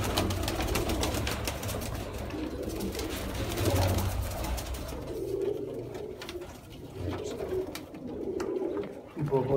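Sialkoti 35-wala pigeons coo in low, throaty bursts close by, mixed with rustling and shuffling movement throughout.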